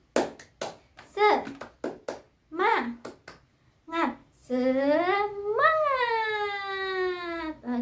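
Schoolchildren in an elementary classroom do a rhythmic clapping chant, short bursts of claps and voices in a set pattern ending in a long drawn-out shouted call.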